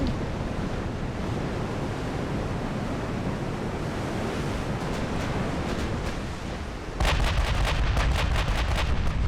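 Warship gunfire in the naval video game Ultimate Admiral Dreadnoughts: a steady wash of sea and wind, then a loud full broadside erupts near the end with a burst of rapid, overlapping heavy cannon booms.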